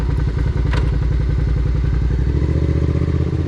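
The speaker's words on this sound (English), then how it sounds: "let's say I'm in third and I want to downshift to second" Motorcycle engine idling and pulsing steadily up close during a downshift from third to second gear at about 2,000 RPM, a low rhythmic thrum with a brief clatter near the start and a slight shift in tone toward the end.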